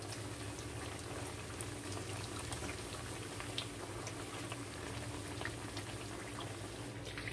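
Quesadillas bubble and sizzle in hot frying oil, a steady dense crackle that runs throughout at moderate volume with no talking.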